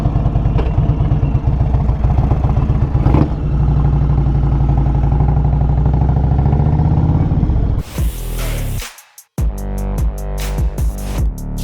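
A new motorcycle ride with the engine droning loudly and steadily for about eight seconds, then dropping off into a short lull before revving again in choppy bursts, as if shifting gears.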